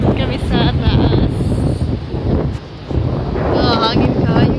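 Strong wind at a resort buffets the microphone in loud, roaring gusts with a brief lull midway, while people talk underneath.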